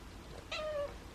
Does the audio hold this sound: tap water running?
no